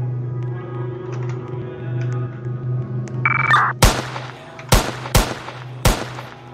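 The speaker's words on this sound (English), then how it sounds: "Shots fired." Gunfire in the Roblox game Mano County, four or five sharp, loud shots fired singly at irregular intervals after a low engine hum and a short electronic tone.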